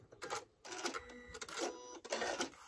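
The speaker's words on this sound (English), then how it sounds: "And then my sewing machine decides to" A sewing machine whirs in short bursts close by, stopping and starting with brief mechanical rattles between runs.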